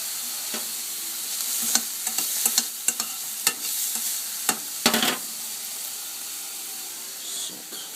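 Chopped onions sizzle and fry in a pot for a chicken stew while a utensil stirs them, with a steady hiss throughout and a series of sharp scraping clinks from the spoon in the middle.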